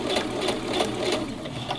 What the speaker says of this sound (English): I'm going to now sew along the edge in just a regular stitch along my side hems here